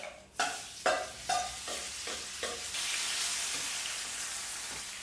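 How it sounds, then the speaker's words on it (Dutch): Mushrooms hitting hot olive oil in a pan, a few sharp clatters and spatters up front, then a steady, loud broadband sizzle that holds to the end, with no voices. "deze ga ik nu even bakken in de pan. Vuurtje aan. Lekker de scheut olijfolie."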